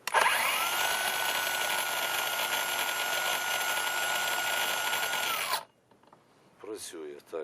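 The motor of a Narva electric chainsaw, just back from a motor-controller repair, switches on with a loud, steady high whine for about five seconds, then cuts off abruptly before someone speaks.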